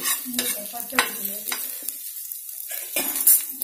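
Tawa idli roasting in butter on a hot griddle sizzles while a metal spatula scrapes and stirs in bursts, close and fairly loud, with a brief quiet gap midway.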